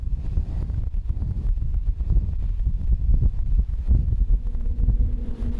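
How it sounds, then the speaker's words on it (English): Strong wind gusting down Union Glacier in Antarctica beside a blue ice runway, a loud, steady roar of buffeting gusts battering the microphone, low and rumbling throughout with no voices. "The wind whips down Union Glacier, keeping the windsock horizontal."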